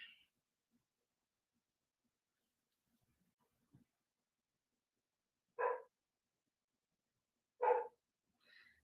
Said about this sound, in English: The dang dog again.